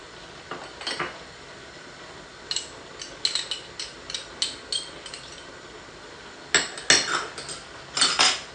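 A metal spoon clinks and scrapes against a cooking pot in short, irregular bursts while garlic and ginger paste is stirred with spices, heard alone at close range.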